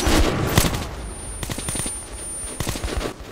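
Rapid bursts of gunfire shooting at monsters in the video game Metro 2033 Redux, dense and loud, with repeated volleys and sharp cracks continuing throughout.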